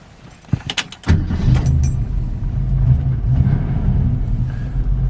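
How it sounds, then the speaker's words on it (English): A 1968 Ford Mustang coupe with automatic transmission cranks with a few sharp clicks and rattles, then its engine catches and settles into a deep, steady, close idle rumble. "So car starts up very easily, runs and drives very well, easy to drive."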